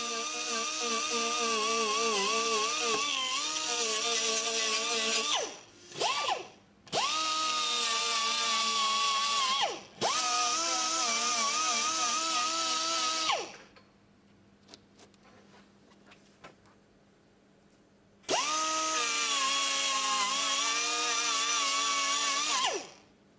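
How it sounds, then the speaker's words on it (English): High-pitched whine of a small power drill boring small holes in a plastic car bumper, running in long bursts, stopping briefly between holes, close and loud. "Drilling several small holes in the plastic will allow the adhesive to penetrate through the repair"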